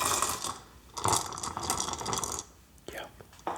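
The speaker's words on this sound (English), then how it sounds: "I'm gonna put the dice in this silicone mold" Dice dropping into a silicone mold, a series of soft clattering, rattling taps close up, with bursts of tumbling and a few separate knocks near the end.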